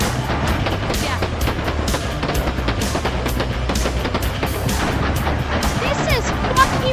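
Several AA-12 automatic shotguns fire in continuous, overlapping bursts, loud and dense for the whole stretch, with booming blasts and rapid cracks; a voice is faintly audible beneath the gunfire.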